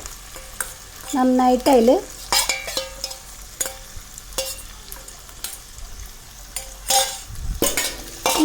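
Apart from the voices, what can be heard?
vegetables stir-frying with onions on high flame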